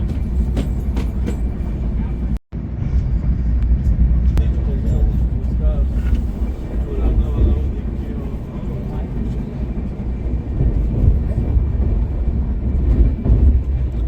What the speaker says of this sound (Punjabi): ਬਹੁਤ ਫਾਸਟ ਜਾ ਰਹੀ ਹੈ ਟ੍ਰੇਨ